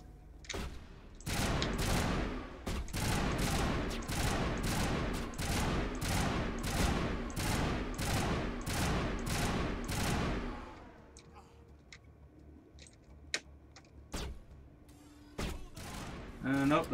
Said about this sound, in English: Nope, that's the shotgun.